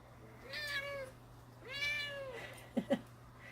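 Two drawn-out cat meows, close and clear, followed by two short soft chirps, over a low steady hum.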